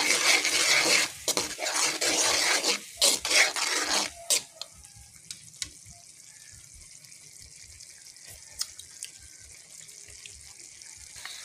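Dried fish escabeche is stirred by hand in a bowl, giving wet, rough mixing sounds for several seconds, then a quieter stretch of faint clinks and small taps from the kitchen.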